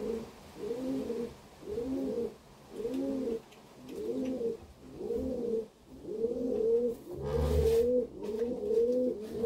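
Pigeons being fed with their chicks coo in a steady, repeating rhythm, each soft throaty phrase following the last at close range, with a brief thump near the end.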